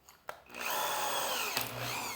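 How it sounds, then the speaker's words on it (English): A power drill boring into a sled ski, a sharp click followed by a rising whine that holds steady and loud at close range, with a brief bump partway through. "I'm going to try to drill right at the top of that point."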